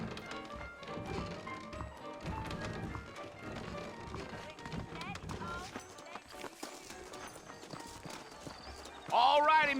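Horses' hooves clip-clopping in the video game Red Dead Redemption, steady trotting mixed into a busy game soundscape with music and other effects, and characters speaking over it.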